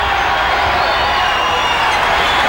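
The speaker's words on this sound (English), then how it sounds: "This will get this raucous crowd more into the game." Raucous basketball arena crowd at a 1993 NBA playoff game between the Suns and Spurs in San Antonio, a dense, steady roar of cheering and chatter throughout, loud and continuous with no single standout shout.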